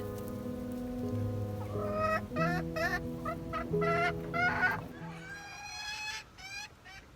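Chickens in a chicken house cluck and squawk in quick overlapping calls, close and fairly loud, with several birds calling over steady background hum.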